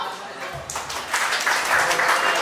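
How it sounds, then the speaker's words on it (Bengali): Audience at a Suzuki Gixxer 250cc launch event in Chattogram breaking into applause, a crowd clatter that swells partway through and stays fairly loud, with a voice speaking over the start. "তো তার জন্য আমি এক্সপেক্ট করবো সবাইকে করতালি দেওয়ার জন্য"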